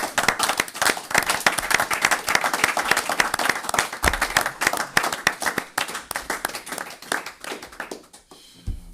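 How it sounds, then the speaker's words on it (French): A crowd of worshippers at a religious broadcast claps together in dense, steady applause that holds for several seconds, then thins and fades out near the end. "Voilà, et on acclame, mes amis."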